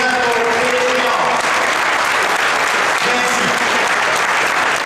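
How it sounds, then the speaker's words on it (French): Sustained, loud applause from a large audience for Philippe Couillard, steady and dense throughout with faint overlapping voices and cheers in the crowd. "Une bonne nouvelle applaudissement pour Philippe Couillard."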